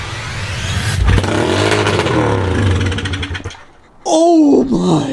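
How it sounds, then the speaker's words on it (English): A pit bike engine revs hard against its rev limiter, a loud buzzing, stuttering blare that lasts several seconds before cutting out, followed by an excited voice shouting up close. "the bike hit the rev limiter instantly and made such a racket"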